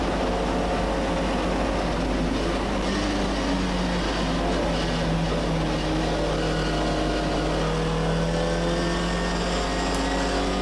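An MGB race car engine at Donington Park circuit drones loudly and steadily, its pitch climbing gradually as the car accelerates uphill, with no talk over it.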